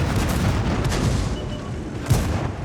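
Dense, rumbling artillery fire in a video game battle, a continuous low booming barrage with a heavier thud near the end, loud and close throughout.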